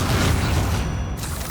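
A Confringo spell explodes in Hogwarts Legacy as a steady, heavy rumbling boom that stays loud across the whole moment, with no voices.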